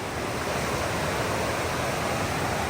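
Steady rushing flow of a river in the El Yunque rainforest in Puerto Rico, a dense, continuous wash of water noise heard up close with no other sounds.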